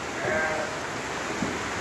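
A single drawn-out lamb bleat, close and fairly loud, over a steady background hum.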